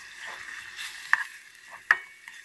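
Tomato paste is stirred into spices in hot oil, a soft steady sizzle with two sharp spoon clinks against the pan and faint scraping.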